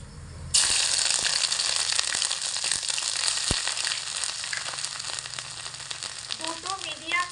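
Grated garlic and ginger hitting hot oil with black cumin seeds, a sudden loud sizzle that holds steady and close for several seconds with a few crackles and a single sharp tap, no talk.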